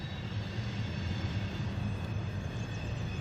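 A train rolling past near the former Acme Steel works at 134th and Perry in Riverdale, Illinois: a steady, low, continuous rumble with a faint high whine, at moderate distance and unbroken throughout.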